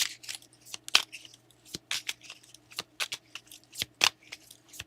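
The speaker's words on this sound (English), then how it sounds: "All right, I'm shuffling here." Tarot cards are shuffled by hand, giving a run of crisp, separate riffling snaps and soft papery slides close by in a quiet room, irregular but steady over several seconds.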